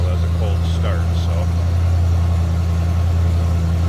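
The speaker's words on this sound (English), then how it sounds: "We're on high idle as a cold start." A 1973 Cadillac Eldorado convertible engine runs on high idle after a cold start, a steady low drone close by, while a person talks over it.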